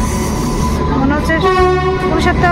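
A train at a railway station near Darjeeling sounds a loud, sustained horn with tonal blasts over a busy platform rumble, while people talk in the background.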